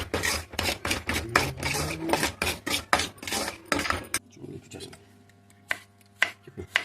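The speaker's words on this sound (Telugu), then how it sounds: "ఉల్లిపాయలు చూడండి ఇలాగా సన్నగా కట్ చేసుకుని పొడవ కట్ చేసుకోవాలండి" A knife slicing onions thinly and lengthwise on a board, a quick, steady run of close crisp chops that thins out to a few scattered cuts.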